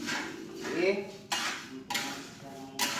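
Coffee beans roasting in a pan are stirred with scraping, rattling and clinking strokes at a steady pace, close by, with a voice speaking partly over the clatter.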